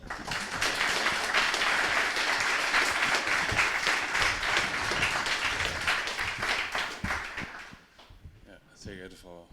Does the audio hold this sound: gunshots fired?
no